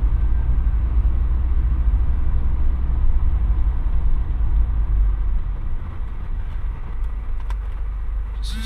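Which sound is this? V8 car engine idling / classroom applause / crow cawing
V8 car engine idling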